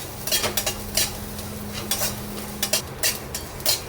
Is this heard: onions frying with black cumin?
yes